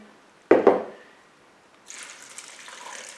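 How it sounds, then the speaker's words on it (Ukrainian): About one and a half litres of brine is poured out during pickled-cucumber making, preceded by a sharp knock; the liquid then gushes in a steady splashing stream for over a second, close by and without talk. "я так всю цю воду півтора літра виллю і додам інші інгредієнти"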